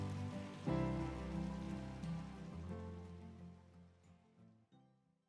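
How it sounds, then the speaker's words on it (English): Steady rain falls in the animated episode Bluey "Rain", a soft wash of drops blended with gentle music that fades toward the end, fairly quiet throughout. "the sounds of the episode are embellished by the rain and the music"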